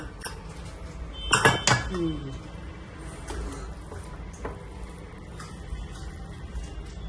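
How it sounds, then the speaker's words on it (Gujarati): A pressure cooker holding spinach and paneer pulao is opened, with a brief burst of metallic clanks from the lid, followed by quiet kitchen ambience and a few soft knocks. "ચાલો દોસ્તો, હવે આપણે જોઈ ઢાંકણું ખોલીને."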